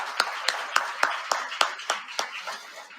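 A few people clap for a panel at an evening social event, with about ten distinct, evenly spaced hand claps that are fairly close, then thin out and fade.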